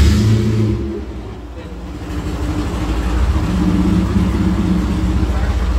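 A Bentley Blower replica's engine turns over and catches, then settles into a deep, throaty running rumble that swells as it is revved, close up with a voice speaking over it.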